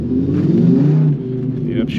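A 2006 Dodge Ram SRT10 Viper truck accelerating in first gear, its deep engine note swelling and droning close by, with a voice faintly audible underneath.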